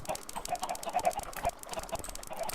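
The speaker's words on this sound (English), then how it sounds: "right now you can hear that even though there's a ton of chickens up here" Chickens clucking in a crowded Minecraft coop in the Drugcraft modpack, a busy stream of short overlapping clucks and chirps that rises and falls steadily throughout.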